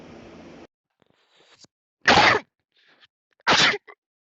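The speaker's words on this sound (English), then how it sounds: "I sneezed, man." A person sneezes twice in a quiet indoor room, two loud sharp bursts about one and a half seconds apart, after a stretch of muffled talk and soft rustling.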